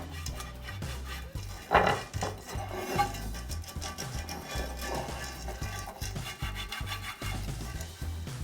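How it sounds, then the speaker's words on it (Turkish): Oil being rubbed by hand over the base and sides of a tart mold, a continuous scraping, rubbing sound with rhythmic strokes, close and fairly soft. "Şunu şöyle tabanını, kenarlarını bir güzel yağlayalım yapışmaması için."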